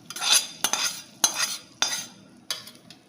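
Cooled cooked rice is tipped into hot tempering in a pan, followed by a few sharp metal spoon scrapes and clinks against the pan at a steady, spaced rhythm, close and clear, with no talk.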